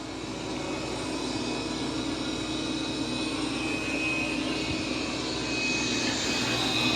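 A Dreame D20 Pro Plus robot vacuum running on turbo suction gives a steady, loud broadband whoosh with a faint high whine, holding level throughout with no talking.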